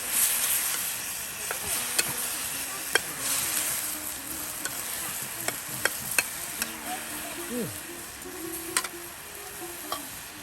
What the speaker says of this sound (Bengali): এখন এই যে আপনার চাপা শুটকি ও তার সাথে মশলা আলু সব একসাথে দিয়ে দিচ্ছে।